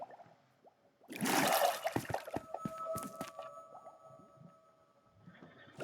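A player in Minecraft drops into water and rides a bubble-column elevator upward: a splash, then bubbling, gurgling water with bright popping chirps that fades and returns faintly.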